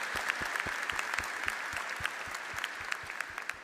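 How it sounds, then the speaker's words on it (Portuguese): A church congregation at a Catholic Mass applauds after a reading, with steady clapping heard from a short distance and carrying on evenly throughout. "Vamos aplaudir a palavra de Deus."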